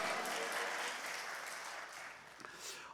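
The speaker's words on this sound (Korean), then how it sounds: "목사님 나오실 때 우리 할렐루야로 하나님께 영광의 박수 올려드립니다" Applause fills a church as the congregation claps to welcome the pastor, a dense, steady wash of many hands that stays loud throughout and eases slightly toward the end.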